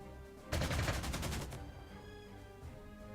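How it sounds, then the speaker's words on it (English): Fighter aircraft strafing in the Panzer Corps 2 video game: a single sharp burst of rapid automatic gunfire lasting about a second, followed by a quiet game background. "I think we'll go ahead and have one of our fighter units strafe them to finish them off."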